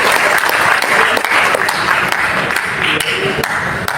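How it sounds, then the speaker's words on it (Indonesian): Loud audience applause at a Betawi customary council gathering, with close, sharp individual claps standing out over a dense crowd and a murmur of voices beneath. "tepuk tangan buat Betawi"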